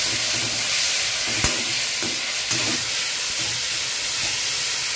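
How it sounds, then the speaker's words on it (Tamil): Onions, chillies and tomatoes sauté in a pan during home cooking, producing a continuous loud hiss and sizzle with a couple of faint clicks. "இப்போ வெங்காயம் மிளகாயெல்லாம் நல்லா தக்காளி பழம் எல்லாம் நல்லா வதங்கிட்டது."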